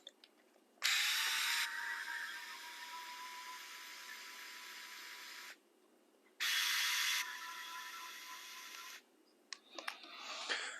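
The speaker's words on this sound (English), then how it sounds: "So first we'll take these two screws out here." Set screws being backed out of links on an RC car with a power driver, two separate whirring runs of several seconds each with a sharp start, close up with no talking.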